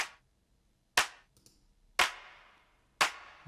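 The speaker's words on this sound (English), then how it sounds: "Next we've got these extra claps." Dry clap samples with no reverb, three sharp isolated hits about one second apart after a tail fading at the start, each a crisp snap with a short decay, no voices.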